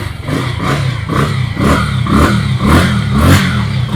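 A used motorcycle for sale in Dhaka idles and is revved in a close, loud engine burst that repeats in rhythmic pulses about every half second.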